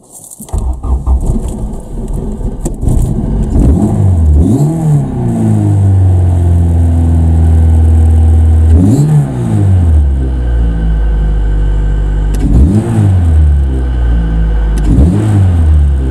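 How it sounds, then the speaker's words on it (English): A Honda Civic EF engine, just reassembled after a cam cover gasket job, cranks and catches, then revs up and settles in repeated loud, close throttle blips over a steady idle rumble, with no talking. "All back together, give it a quick start."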